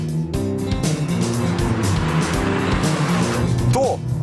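A 2010 Renault Mégane Renault Sport 2.0T 250 drives along a road, its turbocharged engine droning steadily and loud throughout, with tire noise and a brief squeal near the end, while someone talks over it.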